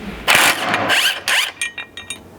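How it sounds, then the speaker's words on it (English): Ratchet with a 12 mm socket working hex head bolts loose on a Tacoma gas tank skid bracket, giving several bursts of close, loud clicking followed by shorter separate ratcheting strokes. "you just need a 12 mil socket to remove these 2 hex head bolts."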